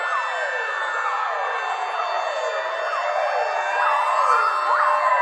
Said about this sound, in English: Next is the Mongolian EAS alarm.